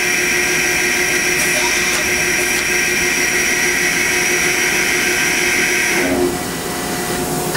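The spindle of a Hardinge CHNC4 16C two-axis CNC chucker runs at 2,000 RPM with a loud, steady high-pitched whine and hum, close and constant, then shifts in tone near the end.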